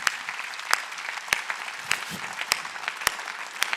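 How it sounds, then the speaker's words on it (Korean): A church congregation claps in a steady, evenly spaced rhythm, each sharp clap standing out over a softer bed of scattered hands and murmuring, at moderate distance. "예수 이름으로 박수치고 있어"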